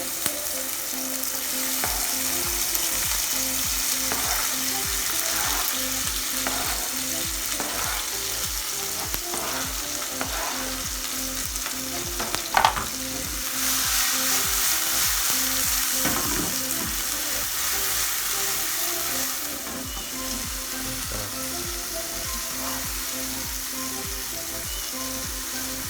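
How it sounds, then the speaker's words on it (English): Dried thyme and other seasonings sauté in a little hot oil in a pan for Jamaican-style pak choy with corned beef. A steady, close, crackling sizzle runs throughout, with a few soft clinks and a stir near the middle. "So I've heated a little oil over here. I'm going to saute my seasoning."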